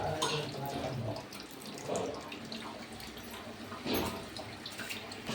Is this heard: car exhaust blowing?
no